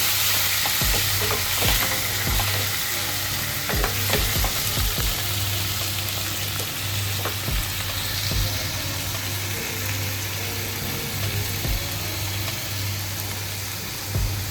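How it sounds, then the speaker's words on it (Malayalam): A spoon stirs tomato into a prawn biryani base in a pot, scraping in irregular taps over a constant sizzle and low steady hum, close by and without talk. "നന്നായിട്ട് ഇളക്കി കൊടുക്കണം"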